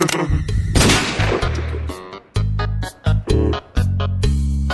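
Gunshot sound effects in a dubbed Horrortale horror comic, several loud, sharp blasts in quick succession with abrupt gaps between them, standing alone without talk.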